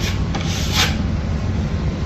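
A drywall knife edge works joint compound into frayed paper over a removed screw. It makes a steady close scraping rub with a brief louder swipe partway through, and no voices.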